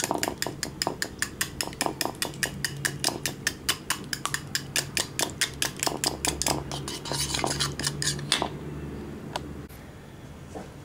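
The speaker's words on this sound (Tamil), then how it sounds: "முட்டை கொஞ்சம் அடிச்சு வச்சுக்கோங்க" An egg beaten briskly in a bowl, a rapid, regular run of clinking whisk or fork strikes close by, with a low hum underneath before the beating slows and stops.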